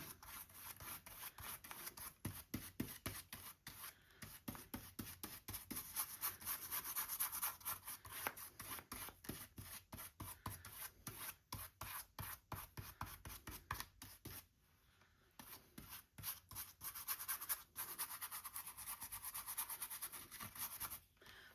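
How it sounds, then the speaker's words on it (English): Watercolor pencil shavings are spread across paper with a tool, giving a near, steady run of quick dry rubbing and scratching strokes that continue for about twenty seconds with only a brief pause. "getting some shavings on there, and then using this to spread the shavings out"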